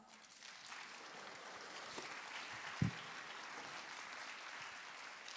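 Audience applause at the 2025 ICLA opening ceremony, a soft, distant wash of clapping from a large hall with one brief louder knock partway through.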